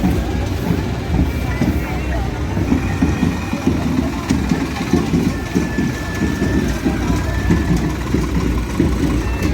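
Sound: tractor engine idling

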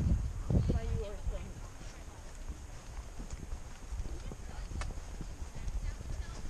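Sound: horse hooves clip-clopping on a trail

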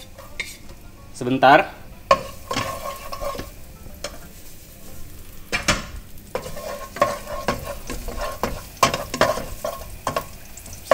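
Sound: garlic being stir-fried in a hot pan

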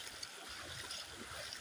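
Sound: floodwater flowing strongly under bridge

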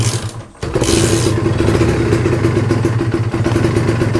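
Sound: Kawasaki Ninja two-stroke motorcycle engine revving

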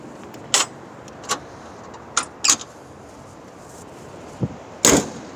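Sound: closing the hood of a 1984 Ford Mustang GT350

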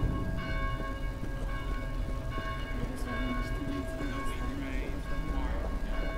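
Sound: church bells ringing in a video game

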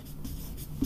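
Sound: writing a definition on a board

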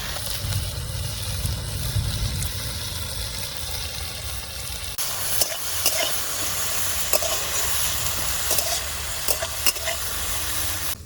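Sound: vine leaves frying in pan

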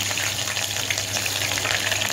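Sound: onions frying in oil in a pressure cooker

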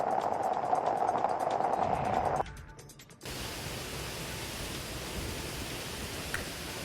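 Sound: monsoon waterfall overflowing in Satara's Western Ghats

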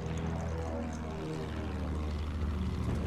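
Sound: plane flying overhead in the video game Battlefield 1

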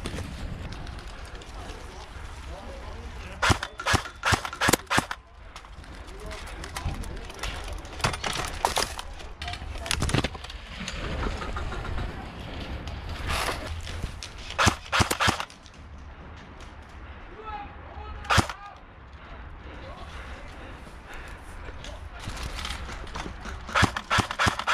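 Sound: gunfire from a gun in a video game

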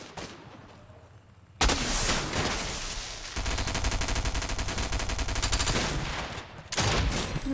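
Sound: gunfire in Fortnite video game

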